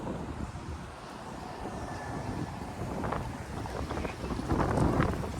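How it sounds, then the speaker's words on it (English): Wind buffets the microphone outdoors on a downtown Toronto street during a walk, a steady broadband rush that swells toward the end with faint city noise underneath. "And I like the wind too."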